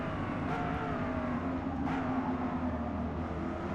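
Corvette E-Ray C8 hybrid with electric-motor torque racing the Nürburgring GP in Forza Motorsport 8, a constant dense engine drone downshifting into a turn, with two brief sharp transients, no talking.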